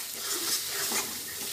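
Spice masala with fried potatoes being stir-fried for a Bengali banana-flower dish, a soft continuous sizzle with gentle stirring swells, fairly quiet and close, without speech.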